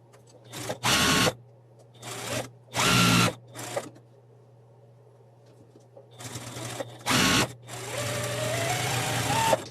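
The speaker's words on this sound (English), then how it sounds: "we're going to sew a 1/4 of an inch seam along this edge here" Sewing machine stitching a quarter-inch seam along a quilt block edge, heard as several short bursts of rapid mechanical stitching separated by pauses, then a longer continuous run, all close and clear over a steady low hum.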